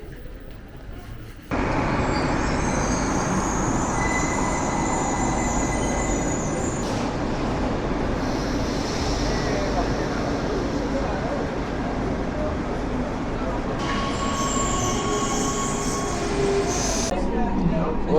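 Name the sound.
Rome metro train running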